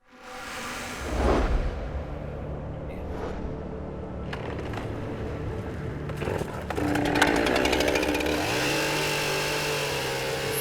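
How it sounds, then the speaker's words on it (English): A chainsaw clearing fallen blowdown trees from a road in northern British Columbia, a steady engine drone that swells and revs higher partway through, close and continuous. "getting plenty of practice with his chainsaw, clearing the roads of blowdowns"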